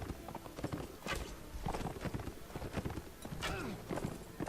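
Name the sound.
horse hoofbeats in video game Mount&Blade Warband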